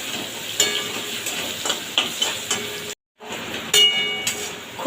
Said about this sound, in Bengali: দিয়ে ভালোভাবে ভেজে নেব হলুদ পাত্র